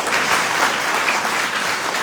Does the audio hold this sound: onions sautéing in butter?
no